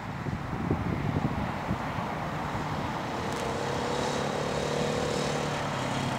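A KTM 500 motorcycle rides up outdoors, its engine a steady, moderately loud drone that holds throughout with a brief sharper surge in the middle, no talking over it.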